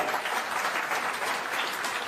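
Audience applause at a political address by Aam Aadmi Party MP Bhagwant Mann in Punjab, a dense, steady clapping that fills the whole short stretch with no talk over it.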